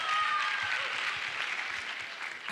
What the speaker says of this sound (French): Merci d'applaudir Samuel Yapo.